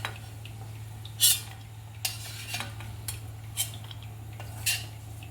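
Pistachios fry in a pan for carrot halwa, with a handful of scattered metallic scrapes and clinks from stirring over a low, constant hum; no clear sizzle stands out.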